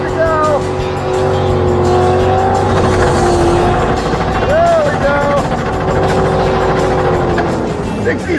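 A beat-up beater car does a long burnout, its engine revving hard while the tires scream in wavering, high-pitched squeals, loud and close throughout with voices calling out underneath.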